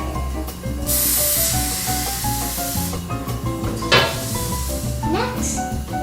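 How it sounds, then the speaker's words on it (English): A few short hissing sprays of coconut oil from an aerosol can onto an air fryer bottom, close by, over a background of music and clatter. "spray some coconut oil on the bottom of the air fryer"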